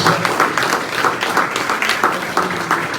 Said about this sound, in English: So if we can have a big round of applause for our previous inductees.